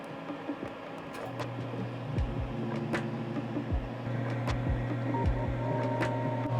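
A refrigerant recovery and recharge machine vacuuming the air conditioning system of a 2018 Subaru Impreza, giving a steady low mechanical hum with a tonal drone and a series of faint clicks and knocks; fairly quiet and close.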